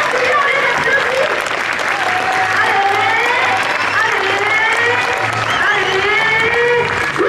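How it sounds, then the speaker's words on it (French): Loud, continuous crowd applause at a French sports awards ceremony, the Lauriers des Sports in Châtillon-sur-Seine, with sustained clapping throughout and voices and a drawn-out call riding over the clapping. "on les applaudit"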